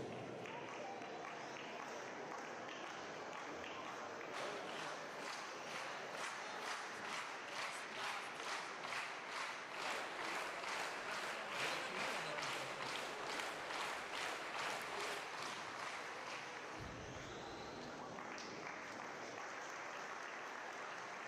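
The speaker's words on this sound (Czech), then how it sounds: "Pojďme Jessiku podpořit potleskem." Audience at an indoor athletics meet clapping in a rhythmic, accelerating unison behind a women's shot putter, the steady beats swelling then breaking off into looser applause near the end, fairly distant in a large hall.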